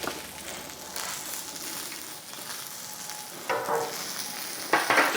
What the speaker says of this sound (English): you can tell from the way the butter sizzles if your griddle's too hot